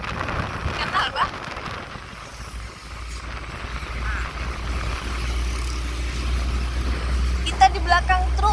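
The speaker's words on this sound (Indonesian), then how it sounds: "Kita di belakang truk semen Padang." A Semen Padang cement truck drives ahead on a climbing mountain road near Padang, its engine a steady low rumble heard from behind, with road noise throughout and people talking over it.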